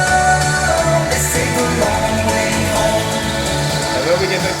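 Layered synth built from triangle and sine waves with delay, reverb and distortion, playing a bright melodic line over a full club mix with bass and beat, loud and continuous.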